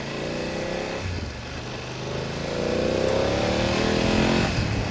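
A BMW F900 GSA motorcycle in dynamic riding mode accelerates hard, its engine note climbing steadily and growing louder over about five seconds, heard close up and continuous with no talking.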